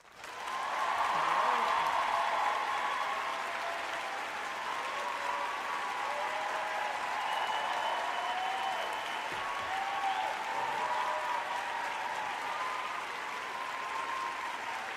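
Sustained applause from a livestream audience during a Mahashivratri gathering, steady clapping that swells at the start and then holds at a fairly even level for the whole stretch.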